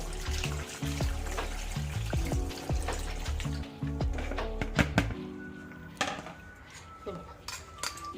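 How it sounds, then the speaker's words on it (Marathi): Tamarind and jaggery water is poured and strained through a sieve in a kitchen, with trickling liquid, clinks of utensil against metal bowl, and scraping, close and moderately loud. "तर मी सुरुवातीला हे पाणी गाळून घेते"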